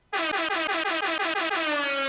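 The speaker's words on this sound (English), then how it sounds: "Classic air horn." A loud, blaring air horn sample from a Teenage Engineering EP-40 Riddim sampler blasts continuously for about two seconds, its harsh tone pulsing rapidly and sliding slightly lower toward the end.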